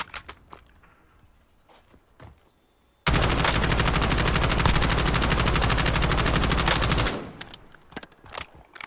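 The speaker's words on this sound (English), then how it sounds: "I hear gunfight over there. I hear bullets." Automatic weapon fire in Call of Duty: Warzone erupts after a few faint taps and rattles into one loud, unbroken burst of about four seconds, then cuts off to quieter background clatter.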